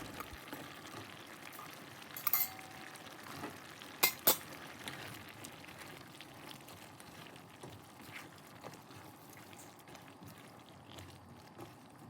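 Chicken wing curry with Thai eggplant and squash simmering in a pot, a soft continuous bubbling and faint sizzle with a few quiet scrapes and knocks of a utensil stirring, close and low in level.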